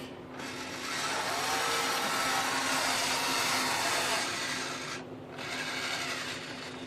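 A servo motor rotates the turret of a 1/6 scale Dragon Sherman tank, giving a steady, quiet whirring hiss that stops briefly near the five-second mark and then resumes.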